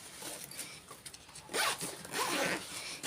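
Zipper on a sewn bag pocket pulled shut, a brief scratchy zip run that swells louder in two strokes near the end, close up with no talk.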